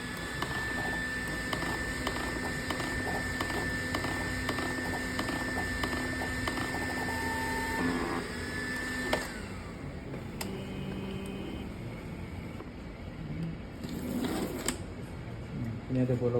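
A garment screen-printing machine runs a nozzle check print with steady, rhythmic mechanical ticking and a whirring carriage, then shifts pitch and winds down partway through, while people talk nearby.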